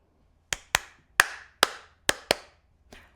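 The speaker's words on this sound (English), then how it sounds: "you can easily clap the motif from Shut Up and Dance With Me" Hands clap out the motif of Shut Up and Dance With Me, a sharp, uneven rhythm of seven claps, close and loud. The final clap is fainter. No voice is heard.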